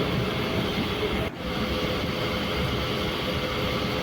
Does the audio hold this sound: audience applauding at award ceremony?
no